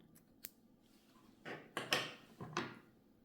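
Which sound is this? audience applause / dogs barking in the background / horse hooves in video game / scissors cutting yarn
scissors cutting yarn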